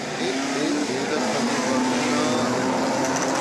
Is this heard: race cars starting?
yes